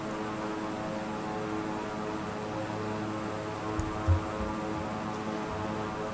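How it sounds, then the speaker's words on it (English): Steady droning propeller airplane engine in a flight simulator, a continuous loud hum with layered harmonic tones and no breaks, running alone with a couple of faint clicks near the end. "I want to land the plane."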